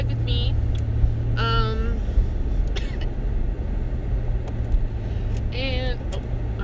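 Steady low road rumble from a car in motion, with engine and tyre drone continuing throughout at close range, while a voice speaks intermittently over it.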